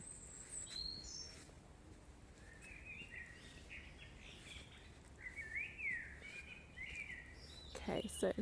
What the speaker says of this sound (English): my things were the sounds of the birds